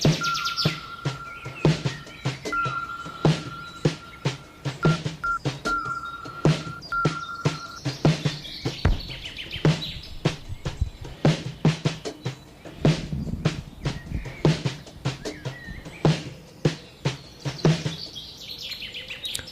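Birds chirp and tweet over and over in short, bright bursts with a steady background, alone and with no talking.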